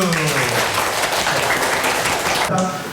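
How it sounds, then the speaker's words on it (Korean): Applause at an education talk swells and holds as a dense, steady wash of clapping from a crowd, fading slightly at the end. "박수."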